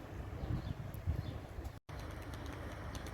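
Pigeons, young tumbler birds among them, give soft low coos with a brief flutter of wings while being fed, faint against steady outdoor background noise.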